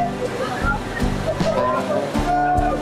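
Kanchenjunga Falls near Pelling pours down from a great height, producing a constant broad rushing roar beneath a person talking almost continuously over it.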